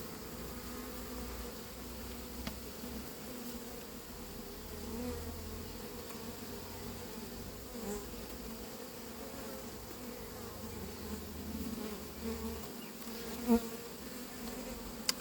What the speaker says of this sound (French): Et voilà l'essaim.